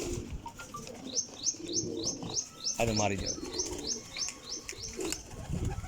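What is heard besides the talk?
pigeons flying and flapping wings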